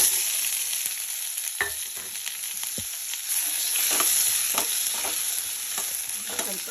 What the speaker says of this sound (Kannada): ಚನ್ನಾಗಿ ಎಣ್ಣೆನಲ್ಲಿ ಬಾಡಿಸ್ತೊಂಡ್ಬೇಕು